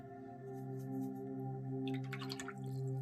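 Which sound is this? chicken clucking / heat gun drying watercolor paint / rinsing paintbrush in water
rinsing paintbrush in water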